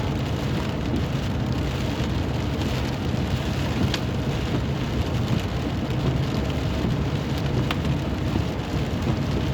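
Heavy, steady rain pouring down in a constant dense hiss, with a couple of faint distant rumbles.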